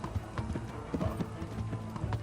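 Horses in the video game Kingdom Come: Deliverance, with steady clip-clop hoofbeats in a quick rhythm, moderately close, with no talk over them.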